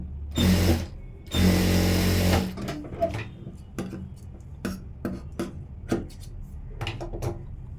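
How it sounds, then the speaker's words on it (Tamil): A sewing machine stitches along the edge of a blouse lining in two loud, close bursts of rapid whirring, followed by scattered clicks and taps of fabric handling. "லைனிங்கில் ஓரமாக ஒரு தையல்"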